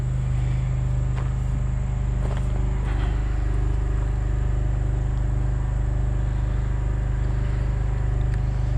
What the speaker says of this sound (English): It's got 50 amp electrical service, which I've got hooked into our generator right now